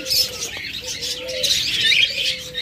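Busy, high-pitched chatter and chirps of cockatiels and other caged pet birds fill the space, several birds calling at once, fairly loud and close.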